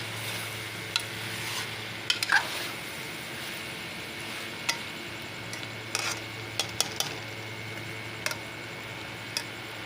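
Okra (bhindi) frying in a pan, a low continuous sizzle with scattered sharp clicks and taps of a spoon stirring against the metal, close by and without talk.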